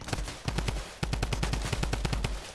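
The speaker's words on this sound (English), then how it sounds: "Who's shooting at me?" Rapid automatic gunfire from the Fortnite video game, loud bursts of closely spaced shots in two long strings with a brief gap between them.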